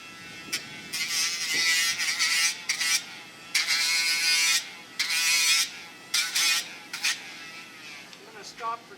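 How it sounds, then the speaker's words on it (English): A handheld grinder trims a bay horse's hooves close by, whining in repeated bursts of a few seconds each with short pauses between them. "grinder on again."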